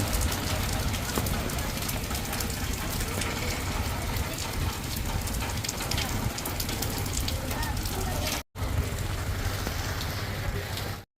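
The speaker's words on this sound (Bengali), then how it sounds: "প্রচন্ড বৃষ্টি চলছে" Heavy rain pours in a dense, steady roar, drumming on surfaces close by, with a brief cut near the end.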